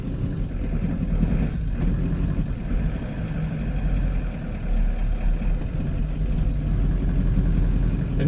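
A long-wheelbase Ford Super Duty OBS Powerstroke diesel truck pulls away in second gear with the clutch let out, a low, steady engine rumble near idle that barely changes tone.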